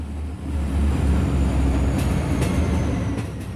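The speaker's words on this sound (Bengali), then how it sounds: "হঠাৎ ট্রেনটা এভাবে থেমে যাচ্ছে কেন?" The Kapotaksha Express, hauled by locomotive 6602 with a fire breaking out in it, rolls with a heavy, steady rumble and a few faint clanks as it comes to a sudden stop, close and without talking.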